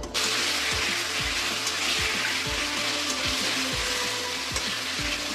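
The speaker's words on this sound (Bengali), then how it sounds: "পেঁয়াজটার সঙ্গে তেলটা আমি ভাজা করব" Fish oil and onion fry in a pan while cooking a Bengali fish curry. The sizzle is steady and loud, with rhythmic scraping and stirring strokes repeating about every half second.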